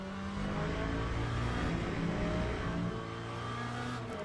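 Steady, loud engine drone of a Le Mans race car lapping a track in a racing video game, the pitch holding and shifting slightly as it revs, with no talk over it.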